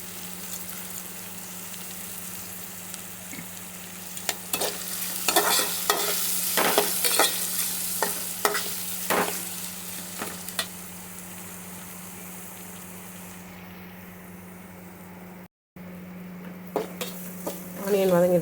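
Cut onions sauté in a pan with a light sprinkle of salt, a soft steady sizzle broken by repeated scraping and stirring clatters of a utensil against the pan, with a brief silent gap near the end.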